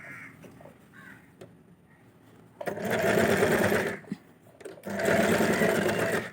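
A sewing machine stitches a pocket onto a nighty in two loud, close bursts of rapid whirring, separated by quiet pauses with faint handling noises and a crow cawing in the background.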